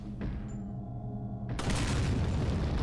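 Booming grenade blasts in the Resident Evil 4 video game, a sustained loud rumbling roar that swells sharply about halfway through and continues dense and heavy, with no talk over it.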